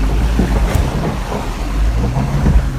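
GWM Tank 300 diesel SUV wading through a river crossing, with a steady low rumble and water sloshing and splashing around it, loud and close throughout with no talk.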